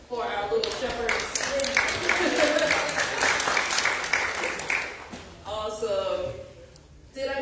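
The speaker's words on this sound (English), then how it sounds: "let's give a round of applause for our little shepherds" A church congregation at a Sunday worship service claps for children dressed as shepherds, a lively round of applause lasting about five seconds, with voices talking over it before and after.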